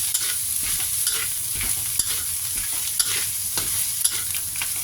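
Rice stir-fried with curry sauce in a pan, a constant close sizzle with rhythmic scraping from the spatula and no one speaking.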